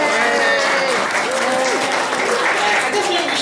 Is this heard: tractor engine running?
no